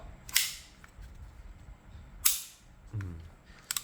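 Two sharp mechanical hammer clicks from a Hi-Capa 5.1 airsoft pistol, about two seconds apart, close and crisp, with a faint low thump near the end over quiet room noise.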